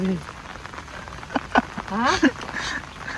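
Heavy rain falls in a steady hiss close by while people talk and call out over it.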